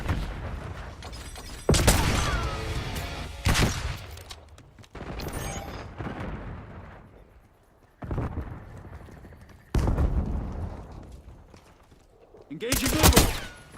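Gunfire from a submachine gun and an AR rifle in a video game, fired in several sharp loud bursts separated by pauses, with someone talking between them and a radio-style voice callout.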